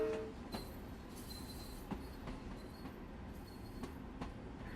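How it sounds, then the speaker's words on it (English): LIRR M3 electric train running on track from the cab, a steady rumbling roll with faint wheel squeal and periodic clicks as it changes tracks, fairly quiet throughout. "Noisy train."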